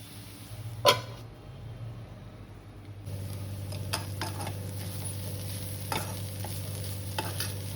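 Masala for an Onam-style thoran fries and sizzles in a pan with steady stirring scrapes, a sharp clatter near the start and a few utensil ticks over a continuous low hiss.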